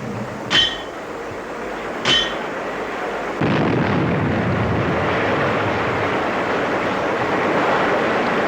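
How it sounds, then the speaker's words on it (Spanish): Two sharp, separate dynamite blasts crack out while a river channel is being cleared, followed by a sustained heavy roar and rumble, at a moderate distance. "el estruendo de las explosiones"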